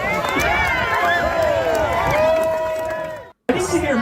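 Crowd cheering and whooping at a wife-carrying championship, with a sustained loud roar of many voices and excited shouts that cuts out abruptly near the end.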